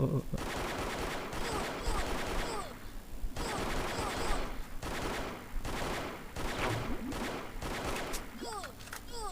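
Automatic gunfire in the HeyHa Royale video game, repeated bursts of rapid shots separated by short pauses, with a voice talking over the action.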